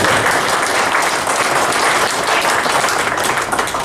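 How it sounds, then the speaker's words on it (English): Conference audience at a workforce development session breaks into loud, dense applause, a continuous wash of many hands clapping close by for the whole stretch. "I think we ought to just give her a round of applause."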